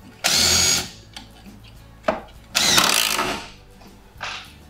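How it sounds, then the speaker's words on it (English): A power drill drives screws into a Silca grate fitted to a stair riser, in three separate bursts of whirring, a long one, a short blip, then another long run and a brief final spurt, close and loud with no talking. "you screw it right into place"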